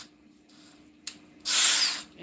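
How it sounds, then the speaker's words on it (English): A power drill drives a screw downward into a workspace furniture build, giving a short buzz and then a louder sustained whirr of about half a second, close by. "I'm gonna take this and I'm gonna drill it going down"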